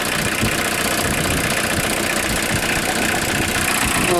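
A 1981 Volkswagen Rabbit diesel engine idles loudly nearby, a steady rough clatter with a rapid knocking rhythm and no break.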